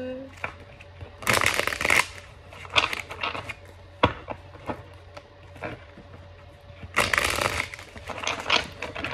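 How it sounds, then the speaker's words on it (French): Cards being shuffled for a card reading, with several bursts of riffling and crisp shuffling separated by short pauses, close and clear, and a soft voice in between. "on va mélanger les cartes"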